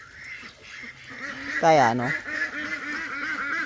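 Domestic laying ducks quack and honk nearby in a rapid run of nasal calls, with a louder burst in the middle and a person speaking briefly over them.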